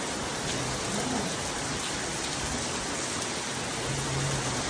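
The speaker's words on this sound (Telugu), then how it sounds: "చాలా అంటే చాలా హెవీగా ఉంది రెయిన్" Heavy rain pours steadily, a dense, constant hiss of drops on surfaces filling the whole scene with no letup.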